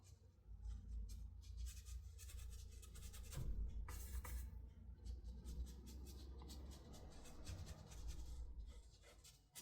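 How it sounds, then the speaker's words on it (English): A dry paintbrush scrubs against paper while painting trees and bushes, giving a faint, continuous scratchy rasp with irregular strokes over a low background hum. "basically I'm scrubbing against the paper."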